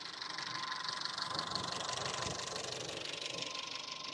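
A used car engine idles steadily for the whole stretch, a close, even running hum with a faint rattle and no voices over it.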